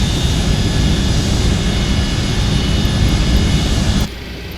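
A Boeing 727's jet engines run on the ground at Miami before taxi, a loud, steady roar with a high whine that holds evenly, then drops in level near the end.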